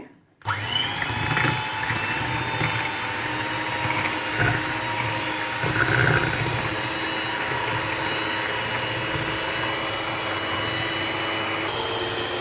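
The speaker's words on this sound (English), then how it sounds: "I'm now going to use my electric whisk to whisk them together" An electric hand whisk runs steadily at close range, beating brownie ingredients in a bowl. Its loud, even motor whine starts abruptly after a brief silence and holds without a break.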